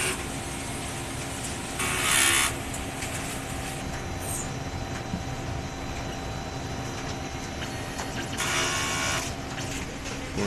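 A large-format printer running a print head cleaning cycle with its wiper, a steady mechanical hum broken by two loud, brief swishing bursts a few seconds apart.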